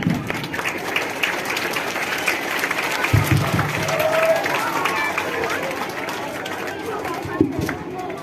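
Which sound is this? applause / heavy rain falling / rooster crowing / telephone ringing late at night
applause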